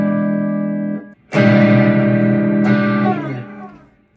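An electric guitar strums a sustained chord across all strings, then a second chord rings out with reverb and fades.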